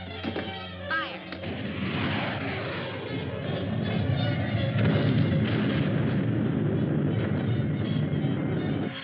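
Heavy cannon fire booms from a 1954 science-fiction film, a loud, sustained rumbling blast that swells and holds over several seconds with no speech over it.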